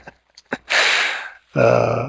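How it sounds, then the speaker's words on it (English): Someone in an online faculty session gasps audibly, two short sharp intakes of breath separated by a brief pause, close and clear against near silence, preceded by faint clicks. "I heard somebody gasp."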